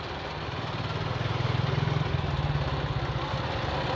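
Cotton candy machine powered by a running motorcycle, a low, throbbing engine idle with a quick, even pulsing rhythm that swells slightly in the middle and keeps going steadily.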